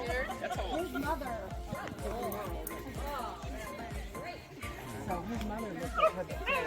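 Several dogs on a hike to a rocky summit bark, yip and whimper excitedly as they meet, dense and close, with people talking underneath.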